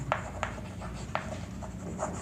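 Writing on a board during a maths lesson on set theory, with several short chalk-like strokes and taps in an uneven rhythm, close and moderately quiet, no talking.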